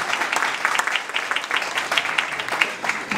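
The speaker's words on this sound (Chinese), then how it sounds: "给王医师再掌声鼓励一下" Audience applause for a dentist named Dr. Wang, who plays bass, at a casual sing-along gathering: a steady burst of clapping from a modest crowd, fairly close, with rapid overlapping claps and no speech.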